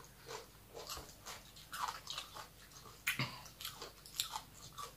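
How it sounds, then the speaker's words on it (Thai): Someone eats spicy green mango salad with fermented fish sauce, making quiet, close crunching and chewing bites in an irregular rhythm with no talking. "มากินยำมะม่วงแล้วกัน"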